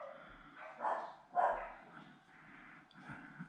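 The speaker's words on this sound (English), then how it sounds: "You can hear my dog out there." A dog barks outdoors, heard from indoors as a few muffled, medium-distance barks in an uneven rhythm.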